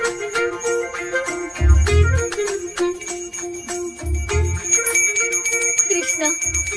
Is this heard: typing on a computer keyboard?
no